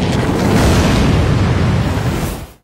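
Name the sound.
explosives detonating at the end of a river, anime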